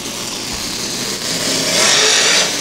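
OCRS sprint car engines roar during a race at Caney Valley Speedway, a loud, steady, dense mechanical drone that swells louder toward the end.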